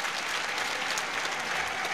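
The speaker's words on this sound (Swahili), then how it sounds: "Ndugu zangu wananchi, naomba tumpigie makofi sana Mheshimiwa Waziri Mkuu." A crowd of citizens applauds the Prime Minister at a public address in Dar es Salaam, a steady, dense wash of clapping at moderate distance with no talk.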